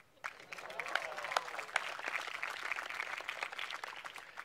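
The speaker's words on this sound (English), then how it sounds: "Give yourselves a round of applause." Graduates at a graduation ceremony break into applause that starts abruptly and continues as a dense patter of many hands, fairly distant and at moderate volume, with a few sharper claps standing out.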